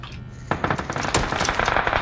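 Gunfire in PlayerUnknown's Battlegrounds, a loud rapid burst of automatic shots beginning after a brief lull and continuing in quick, uneven cracks to the end.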